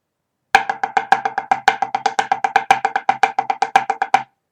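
A pipe band snare drum plays a fast inward paradiddle of about thirty crisp, evenly spaced strokes with regular accents. It is close and loud, with nothing else heard, and ends sharply.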